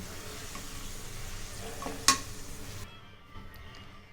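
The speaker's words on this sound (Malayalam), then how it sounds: "തിളയാകുമ്പോഴത്തേക്ക് നമുക്ക് പോർക്കെല്ലാം ഇട്ട് വരട്ടിയെടുക്കണം. ഇളക്കി കൊടുക്കണം" Pork stirred and dry-roasted in a pan gives a steady close sizzle, with one sharp utensil clank against the pan midway, after which the sizzle drops away to a quieter hiss.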